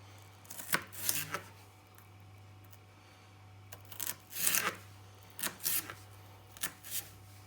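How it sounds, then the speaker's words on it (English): A knife slices peppers on a plastic chopping board in short bursts of sharp, close chopping taps, grouped in quick clusters separated by brief pauses, with no talking. "I'm just going to start slicing up the peppers, okay."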